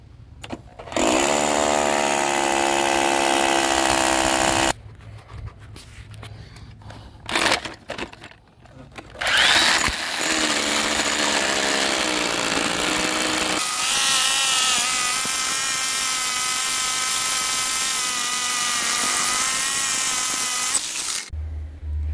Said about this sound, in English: okay, so the drill is all the way through.